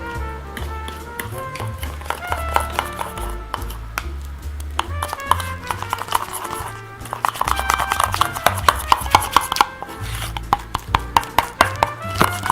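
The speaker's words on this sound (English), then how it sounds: "ground peppercorns. Smash and mix." Ground peppercorns are smashed and mixed for chicken marsala, giving a close run of sharp, rapid knocks and taps in an uneven, busy rhythm with no one talking.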